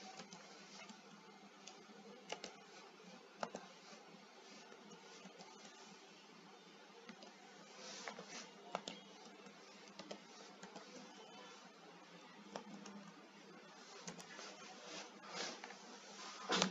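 Quiet, steady keyboard typing as data is entered into a spreadsheet table, soft irregular key clicks running throughout with a few sharper taps, no one talking.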